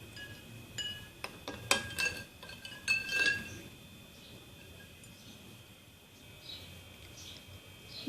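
Ice cubes clink against glass as lemonade is stirred, with a few bright, close taps and jingles early on before it settles into quiet room tone; no talking.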